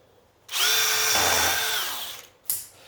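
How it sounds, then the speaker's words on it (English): A power drill bores a 1/8 inch pilot hole while building a simple campfire grill, one close, loud whine that spins up, dips in pitch under load, then winds down, followed by a brief second burst. "I'm going to drill a 1/8 hole first"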